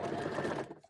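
A sewing machine stitches fabric in a brief, loud burst of rapid whirring that stops abruptly, leaving a couple of faint clicks.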